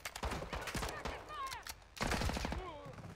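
Gunfire in the Call of Duty DMZ video game, quick clusters of sharp shots in two bursts separated by a short lull, with in-game sound effects and some whooshing tones mixed in.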